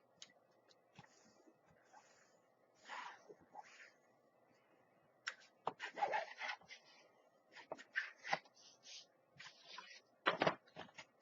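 A folded paper box being burnished along its score line, giving soft scattered rubs and scrapes that swell into brisker, louder strokes partway through, close and quiet.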